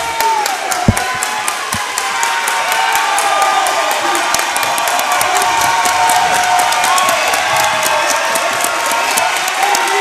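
A noisy crowd cheers and applauds at a boys' varsity basketball game, a dense, steady roar of voices, whoops and clapping in an indoor gym, with occasional sharp ticks and squeaks through the din.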